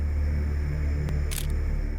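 A camera shutter clicks once, followed moments later by a brief burst and a second short click, faint over a steady low background hum, with no one speaking.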